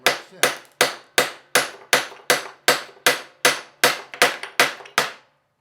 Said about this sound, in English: I'm going to hammer this